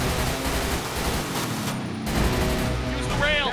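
Gunfire in a Grand Theft Auto 5 roleplay game, sustained dense bursts of shots and booms filling the clip, loud and continuous with raised voices mixed in.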